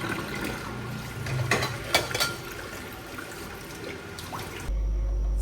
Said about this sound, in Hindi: अब आप देखिएगा मैं गोभी को वॉश कैसे करती हूँ।